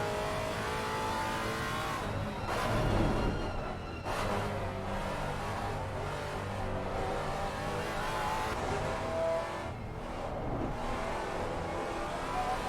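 A Maserati race car in a racing game at Oulton Park, engine note steady and droning as it climbs through the gears, run without traction control or anti-lock brakes, with brief swells of revving and no talk.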